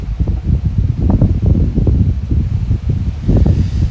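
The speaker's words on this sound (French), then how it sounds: "le vent se lève un peu" Steady wind buffeting the microphone outdoors as the wind picks up, a loud rumbling low roar with gusty swells throughout and no one speaking.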